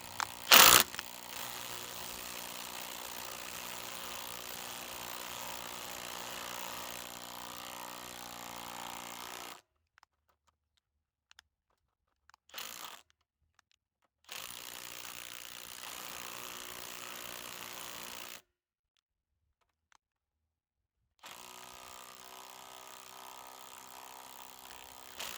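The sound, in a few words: motor brake switching off, version B2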